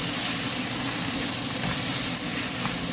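Vegetables with salt and turmeric powder sizzle steadily in a hot pan while being stirred, a dense continuous frying hiss with faint scraping, close and even throughout with no talking.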